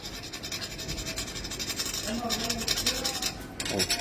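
A metal key scrapes across a handmade gold-finish surface in a steady run of close, gritty scratching strokes, with a person talking over it.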